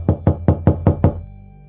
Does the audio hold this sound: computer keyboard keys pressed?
no